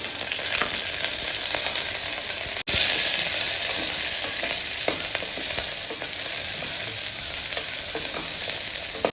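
A loud, steady sizzle of onions and chillies frying in hot oil for tomato rice, with occasional stirring scrapes, continuous for several seconds.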